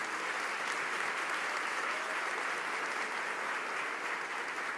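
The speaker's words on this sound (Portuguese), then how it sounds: "Eu queria pedir uma salva de palmas a todos os papais." A church congregation at a Sunday morning service applauds the fathers, a steady, dense wash of clapping that holds evenly for several seconds without breaks.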